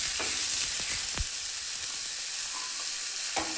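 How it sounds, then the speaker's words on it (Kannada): Finely chopped onions frying in a pan for buttermilk sambar, a loud steady sizzle with a few sharp spoon scrapes and taps, no talking. "ಇದನ್ನ ಚೆನ್ನಾಗಿ ಫ್ರೈ ಮಾಡ್ಕೊಳ್ಳೋಣ."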